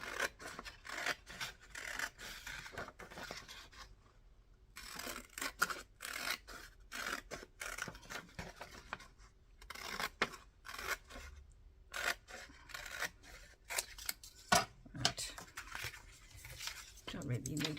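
Paper card being cut with scissors for a handmade Father's Day card, a series of close, crisp snips and scrapes in irregular bursts, with soft speech here and there.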